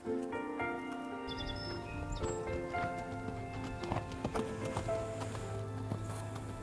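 Horse hooves clip-clop at a walk during a riding lesson, a steady uneven rhythm of soft thuds with faint birdsong and a quiet background over the whole stretch.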